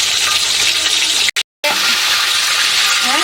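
Chicken pieces frying in a pan for a home chicken curry are turned over, giving a steady close sizzle with a brief scraping stir and a short gap of silence partway through.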